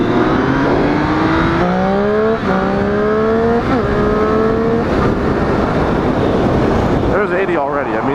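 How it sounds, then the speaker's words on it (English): The engine of a 2014 Triumph Street Triple motorcycle accelerates hard through several gears, each rising whine broken by a quick shift. The engine noise is loud and close, with wind rush underneath. "the triple accelerator, like the pull of it with the sound that you get from the engine"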